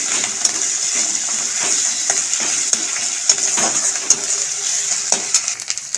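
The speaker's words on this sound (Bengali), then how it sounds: "আদা রসুন পেঁয়াজ প্রায় ভাজা হয়েই এসছে।" Grated onion with ginger-garlic paste fries in a pan for egg and potato kofta curry, a continuous close sizzle broken by frequent clinks and scrapes of a stirring spoon, with no talking.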